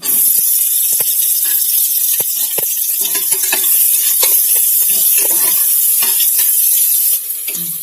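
Sliced big onions sauté in a pan for mint rice, a loud close sizzle overlaid with frequent clattering stirs and scrapes, easing near the end, without speech.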